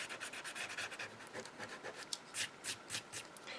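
A mono sand eraser rubs glue residue off fingers in quick, close, scratchy back-and-forth strokes, soft and continuous with brief louder swipes, and no talking.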